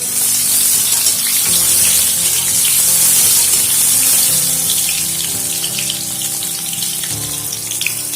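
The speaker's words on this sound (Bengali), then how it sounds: "এবারে সাদা তেল দিয়ে আলুগুলোকে লবণ ও হলুদ দিয়ে ভালো করে ভেজে নিচ্ছি" Boiled new potatoes fry in white oil with salt and turmeric for a pea and potato curry, giving a loud, continuous sizzling hiss that holds steady throughout with no talking.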